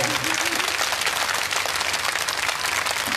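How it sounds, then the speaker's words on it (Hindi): An audience at a Bhagwat katha in Tughlakabad, Delhi, claps for the event's donors in a dense, loud, sustained burst, with a voice briefly audible near the start. "आप लोग इन्हीं के लिए जोरदार ताली बजाओ"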